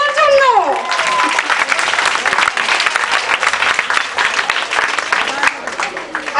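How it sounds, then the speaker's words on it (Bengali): Audience at a children's cultural show applauds loudly and steadily, a dense wash of clapping that carries on for several seconds, with a voice briefly heard at the start. "জোরে একটু করতালি ওনার জন্য"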